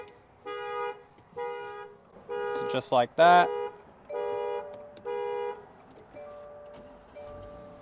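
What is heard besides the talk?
Subaru car alarm going off when door opened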